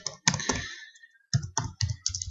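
Computer keyboard typing while programming a terminal output example in C, with a burst of clustered key clicks, a pause, then several quick separate keystrokes, close and clear with no talk.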